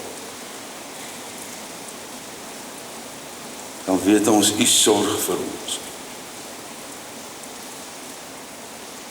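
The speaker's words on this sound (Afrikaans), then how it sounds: "wanneer ons die reën daar buite hoor val" Steady rain falls outside a church, a soft even hiss running throughout while a man leads a prayer over it in the middle of the clip.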